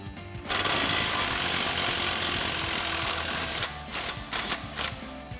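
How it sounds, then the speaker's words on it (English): Impact wrench fitted with a 15 mm socket loosening the lower shock mount bolts on a 1979-2004 Mustang, a close, loud continuous rattling hammer burst lasting several seconds, then a few shorter stuttering pulses. "now we'll go ahead and disconnect our lower shock mounts using our 15 mil socket on our impact"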